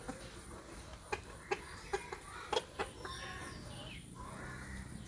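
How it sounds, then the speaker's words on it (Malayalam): Young chickens on a poultry farm clucking in short scattered bursts at a moderate distance over a steady hiss of background noise. "ചെറിയ കോഴികളായി 25 പേരുണ്ട്"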